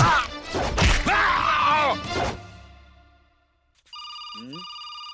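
A telephone rings with a repeated electronic trill after an emotional outburst of speech, the ringing arriving alone and fairly clear near the end.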